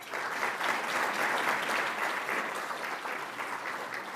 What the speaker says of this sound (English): Please join me in a round of applause for our 2025 Academic Excellence winners